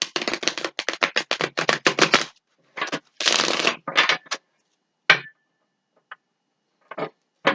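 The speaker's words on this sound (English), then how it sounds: "That's when I like to shuffle." Tarot cards are riffled in quick crisp bursts, a fast flurry followed by a few slower separate shuffles and taps, with no talking.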